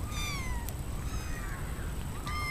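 Kittens meowing in a home with their mother nearby, several high, wavering cries repeating in close succession over a low background rumble.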